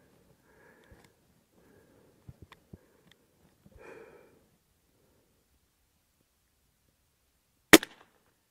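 A Gamo Swarm Magnum Pro .177 air rifle with a 10x scope fires one sharp, loud crack near the end, after a stretch of faint handling noises and near silence.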